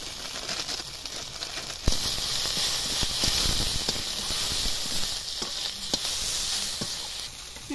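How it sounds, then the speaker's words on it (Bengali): Spice masala with turmeric, salt and chili powder fries in a hot pan, giving a loud, steady hissing sizzle that jumps up abruptly and continues with occasional clicks of stirring. "মশলাটা ভালো করে কষে নিয়েছি।"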